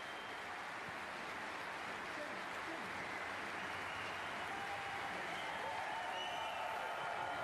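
A snooker crowd at the German Masters final applauds and cheers in a big arena, a broad, even roar of clapping and crowd noise heard at a distance and fairly quiet throughout.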